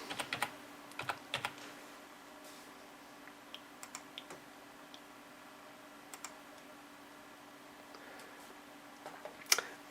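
Keys on a computer keyboard tap in scattered bursts while account details are entered for a LinuxCNC lathe setup, quiet close clicks with pauses between groups and no talk.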